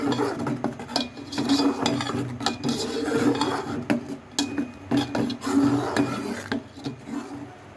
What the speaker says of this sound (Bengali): গ্রেট করে নেব এটা দিয়ে।